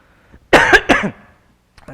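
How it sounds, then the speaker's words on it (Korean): A person coughs twice in quick succession, close and fairly loud, followed by a brief pause and the start of speech. "기침하면 안 되는데."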